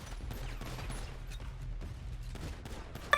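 Muffled, rapid gunfire in the GTA V video game, rattling in a dense, fairly steady stream of shots with some distant-sounding bursts and a sharp click near the end.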